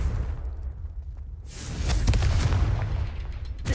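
A Confringo fire spell in Hogwarts Legacy bursts into a loud, sustained explosive roar with whooshing debris, rising after a brief quieter lull and staying heavy to the end.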